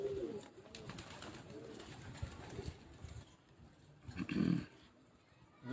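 Pigeons from a breeder pair, including a red gold hen, coo in a loft, low soft murmuring throughout with a louder burst of cooing near the end.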